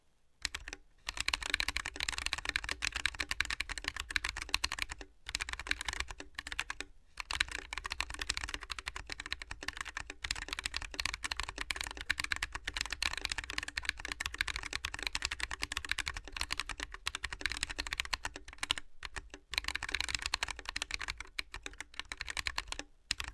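Someone types fast on a handwired ScottoAlp mechanical keyboard. The keystrokes clatter up close in steady runs, broken by a few brief pauses.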